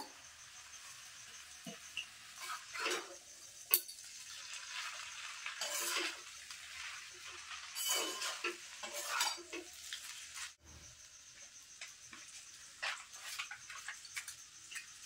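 Scrambled egg bhujia tipped into a pan of egg chowmein and stirred, soft intermittent scraping and tossing strokes over a faint sizzle, fairly quiet and close, no voices.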